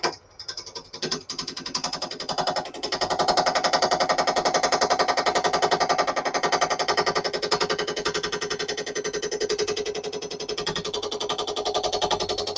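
A woodturning gouge cuts into a spinning wooden gift box blank on a lathe, giving a loud, continuous rapid chattering buzz that holds steady for about ten seconds after a brief start.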